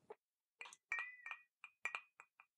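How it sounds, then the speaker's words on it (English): Ice cubes clink against a glass of Black Balsam, the Latvian herbal liqueur, just poured over ice: around seven short, bright, ringing taps in an irregular rhythm, close and fairly quiet, with no talking. "I've just poured it out. I don't know whether you're supposed to take it over ice, but I have. Ah, that's the clinking sound I'm hearing."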